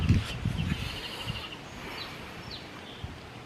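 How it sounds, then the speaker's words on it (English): Birds chirp and trill outside in a breezeway, a thin repeated twittering phrase and a few scattered calls, fairly faint and distant over light wind noise and some low handling thumps at the start. "I love just sitting out here and listening to the birds"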